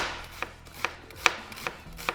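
A knife slices through an onion on a cutting board in a crisp, steady rhythm of about five sharp taps, close and clear with no talking.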